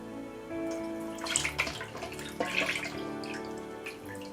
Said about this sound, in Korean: 이렇게 물을 부어주세요.